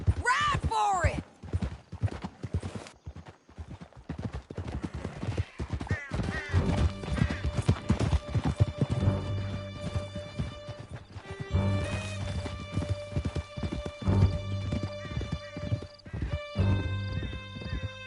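Horses gallop hard in a Red Dead Redemption 2 chase toward a canyon, with steady clip-clop hoofbeats, an early whinny and loud busy game sound continuing throughout; voices shout over the riding.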